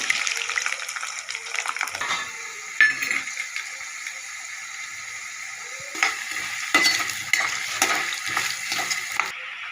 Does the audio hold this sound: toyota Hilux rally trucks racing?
no